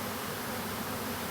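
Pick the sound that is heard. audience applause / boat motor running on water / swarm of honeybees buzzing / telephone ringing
swarm of honeybees buzzing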